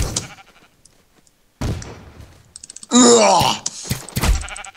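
Sheep bleats in a sheep-protecting video game, a loud wavering cry in the middle followed by short sharp game sounds, with a brief groaning voice and scattered talk before it.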